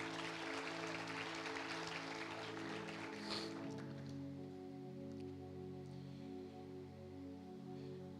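A church congregation at a worship service claps in a dense, steady burst that fades after a few seconds, leaving a sustained organ-like drone alone.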